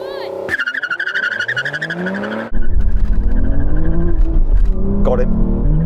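Aston Martin cars launch in a drag race, engines revving hard with tire squeal, then a loud, dense engine roar surges in and sustains close by. A voice talks over the opening moments.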